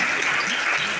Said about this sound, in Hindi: एक बार और ताली बजाए जोरदार।